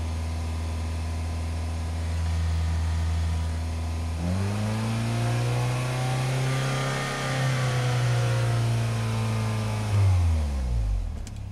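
Saab 9-3 2.0t engine just after a throttle body cleaning, idling steadily before the throttle is opened into a sustained rev of several seconds, then dropping back toward idle, close and loud with no talk.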